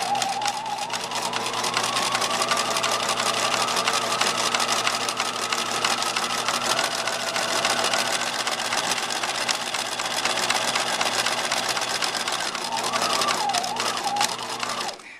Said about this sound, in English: It's going to sew kind of slow because it's tiny stitches.